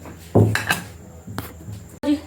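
A kadhai (wok) being washed before frying puris, with a few loud metallic clanks and scrapes of the pan against utensils, close by, separated by short quiet gaps.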